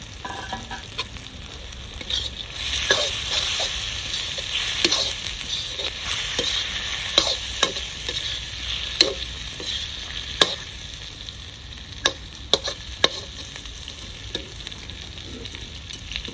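Continuous sizzling from a pan as tomatoes fry with onions, punctuated by repeated clicks and scrapes of a spatula stirring, close by and without speech.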